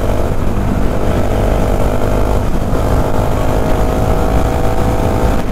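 A Bajaj Dominar 400 touring motorcycle runs at speed on a hill road, its engine a loud, steady drone blended with wind roar throughout.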